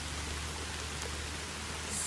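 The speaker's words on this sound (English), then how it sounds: "So it's raining." Steady rain falls in the woods, a dense, even hiss of drops on leaves and ground, continuous and fairly close with no breaks.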